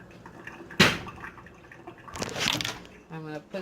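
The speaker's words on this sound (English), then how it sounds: "Cover it with some water." Tap water runs and splashes into a small cooking pot over peeled potatoes in bursts, close and fairly loud, with brief pauses between pours and some faint background noise.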